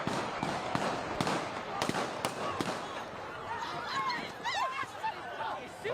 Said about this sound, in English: MetroSafe now confirms those were gunshots.